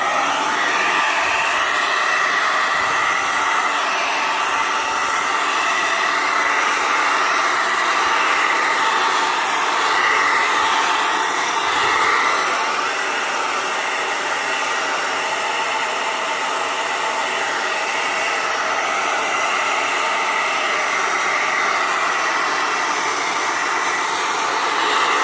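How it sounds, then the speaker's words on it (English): A hair dryer blows continuously on freshly screen-printed ink, a loud, steady whooshing hiss with slight fluctuations in airflow throughout. "we use a hair dryer and dry it out"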